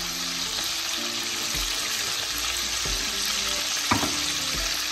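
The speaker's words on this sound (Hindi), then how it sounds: "हमारी ये फिश जो है फ्राई हो गई है, बस हमने इतनी ही फ्राई करनी है।" Silver hake fish pieces frying in hot oil for a Pakistani curry, giving a dense, steady sizzle close up, with occasional soft knocks and one sharper clink near the end, with no voices.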